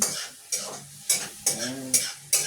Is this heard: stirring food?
yes